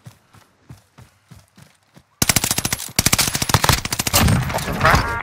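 Video game Kar98k bolt-action rifle shots on a Caldera trios match: a sparse run of sharp cracks and footsteps, then a loud, dense burst of rapid overlapping gunfire and explosions close by.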